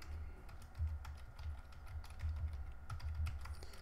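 A new password is typed on a computer keyboard during setup of a BIG-IP F5 device, giving a quiet, steady run of close key clicks at an even, moderate pace with no talking.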